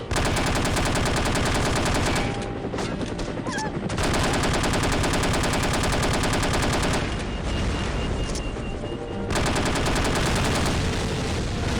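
Gunshots in the No One Lives Forever video game: dense, loud, continuous gunfire through most of the stretch, broken by two brief lulls, with no talking.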